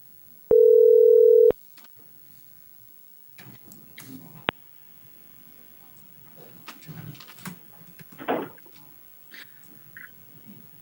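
Brief steady telephone tone lasting about a second as a courtroom call to an attorney is placed, followed by faint clicks, rustling and soft room noise.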